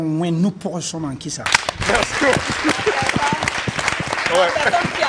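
Applause from a crowd at an apéro gathering breaks out after a brief voice and then carries on as a dense, lively patter of many hands through the rest.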